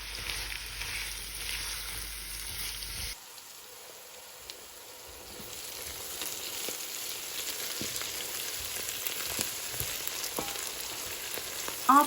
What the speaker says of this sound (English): saute the onions for a good 10 minutes on medium heat with the lid on